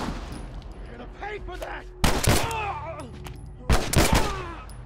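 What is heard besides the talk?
gunshots in The Last of Us video game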